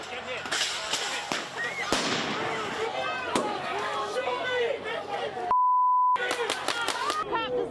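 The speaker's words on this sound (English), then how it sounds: "There are people throwing fireworks and who knows what else." Fireworks thrown by rioters burst along a city street in a dense run of loud, sharp bangs and crackles over a noisy crowd and voices, broken by a sustained electronic beep tone.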